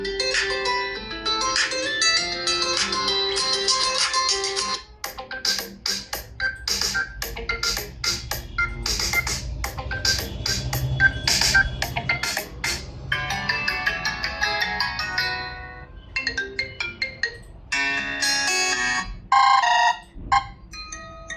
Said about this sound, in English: So now let's check the sound quality of this mobile phone.